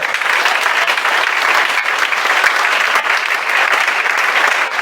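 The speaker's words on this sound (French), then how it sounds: "que tu acclames le Seigneur." A church congregation applauding together at a Sunday service, a loud, continuous wash of clapping from many hands filling the room.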